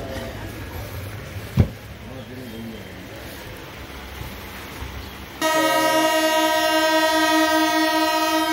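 The Kanchankanya Express rolls into Bardhaman Junction with a low rumble and one sharp clunk, then a loud, sustained horn blast sounds up close for the last few seconds.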